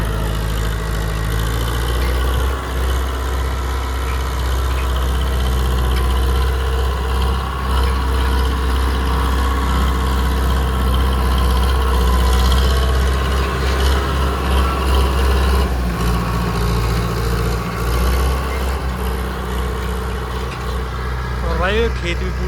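A four-cylinder Digitrac PP 46 tractor engine pulling a harrow in high gear drones steadily and loudly at close range, a heavy low rumble throughout with faint voices underneath.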